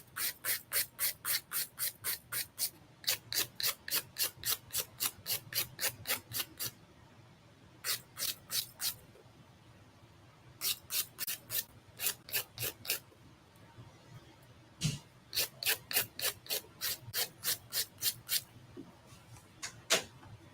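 Builder gel nails are being filed and shaped during a rebalance fill, producing rapid rhythmic rasping strokes in bursts separated by short pauses, close and fairly loud with no talking.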